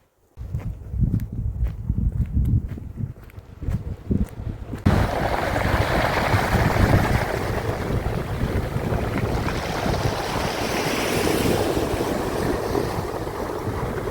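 Sea waves at high tide on the Normandy coast below chalk cliffs, a steady loud roar of surf with wind buffeting the microphone, preceded by a few seconds of footsteps and lighter rustling.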